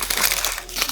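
Face paper wrapped around a small doll's head crinkles and rustles loudly and continuously as it is pulled open, very close, with no voices.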